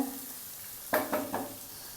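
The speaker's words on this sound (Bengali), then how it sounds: "হোক একটু ভাজা ভাজা হোক পেঁয়াজ আর আলু" Onions and potatoes fry in the oil left from frying fish, a quiet steady sizzle broken by three quick scraping stirs in the pan near the middle, close by and faint.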